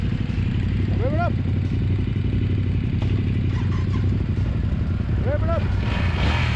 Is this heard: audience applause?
no